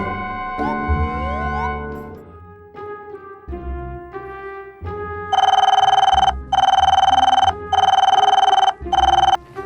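A telephone rings loudly in repeated long bursts separated by short gaps, after some softer tonal sounds at the start.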